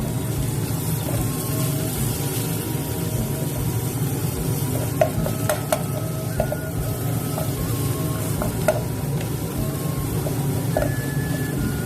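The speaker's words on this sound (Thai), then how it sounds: "พอน้ำมันร้อนเราก็จะเอา นี่ค่ะก็จะเอาเครื่องแกงของเรานะคะลงไป แล้วก็ผัดให้หอมนะคะ" Thai curry paste of galangal, lemongrass, dried chili, shallot, garlic and shrimp paste stir-fried in hot oil, a steady low sizzle under scattered clinks and scrapes of a utensil against the pan, with no talking.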